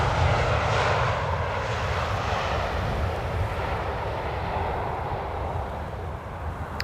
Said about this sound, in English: Air Baltic arriving from Tallinn. Oh, they're even using the reversers a little.